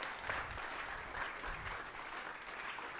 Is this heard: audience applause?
yes